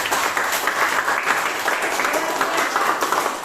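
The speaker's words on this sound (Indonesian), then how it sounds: "Ayo kita beri tepuk tangan untuk diri kalian sendiri" A group of children clapping together in a classroom or schoolyard, a dense steady wash of applause holding for several seconds at close range.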